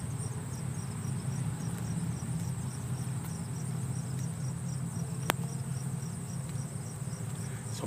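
Honeybees buzzing steadily at a beehive, a dense continuous insect hum with a faint high whine, close and even throughout with one brief click partway through.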